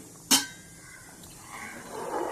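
A lid clinks once onto a pot of simmering Tamil kara kuzhambu with taro root, a short sharp metallic clatter up close, followed by a soft low bubbling hiss.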